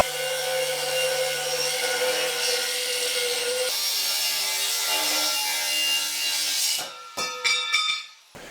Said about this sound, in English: I'll have to cut a piece out of this.